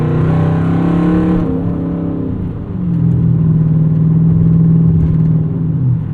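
A Hemi V8 in a Dodge Charger Ute revs and pulls hard, engine note dropping after a shift then climbing again, loud and close throughout with no talk.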